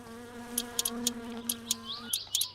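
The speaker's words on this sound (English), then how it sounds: "the fly is flying around me. Buzzing around." Housefly buzzing around the player in the car-building game My Summer Car, a series of short, close buzzing bursts over a steady low engine-like drone and game ambience.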